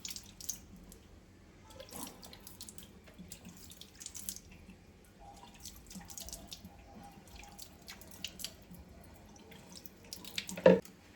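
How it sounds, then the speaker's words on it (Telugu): Warm water runs from a tap into a sink during a face wash, a soft steady trickle with occasional drips and splashes from hands, and a sharper splash near the end; no voices. "ఇప్పుడు వామ్ వాటర్ పెట్టి నేను క్లీన్ చేస్తాను"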